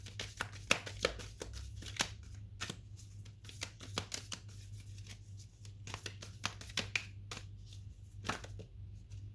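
Soft riffling and slapping of tarot cards being shuffled, quick bursts of flutters and taps over a low steady hum, quiet and close.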